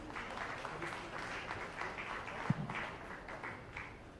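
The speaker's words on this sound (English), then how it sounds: "We'll give him a round of applause as he's walking up as well." Audience applause at an anniversary celebration event as a volunteer walks up on stage, a steady wash of many hands clapping at moderate distance, with a single sharper tap standing out partway through.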